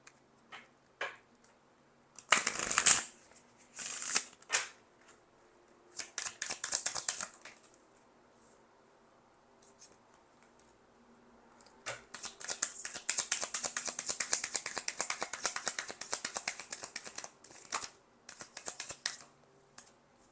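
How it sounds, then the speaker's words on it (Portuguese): A deck of tarot cards is shuffled in crisp, papery bursts of rapid clicking and flicking, with several short riffles and one longer run separated by quiet pauses, heard close and without talk. "Eu vou embaralhar o outro. Vem o outro deck."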